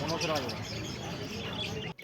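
Budgerigars chirp at a crowded bird market, a busy layer of quick high tweets heard close. Someone talks over the birds the whole time.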